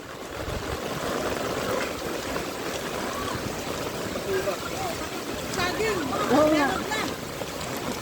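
Typhoon floodwater rushing steadily through a flooded city street, a continuous watery wash under nearby chatter and laughter, with a few voices rising briefly over the flow.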